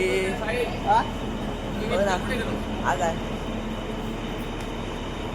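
A local train at Panvel railway station gives a steady rumble and hum across the platform, with a few brief tonal calls. People talk over it.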